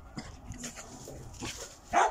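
A dog in a neighbouring house's garden barks and whimpers, with short yips and a louder bark close by near the end, heard alone without talk.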